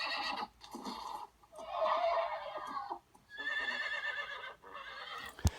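A horse in the film Seabiscuit neighs several times in loud, shaky whinnies separated by short pauses, ending with a sharp thump.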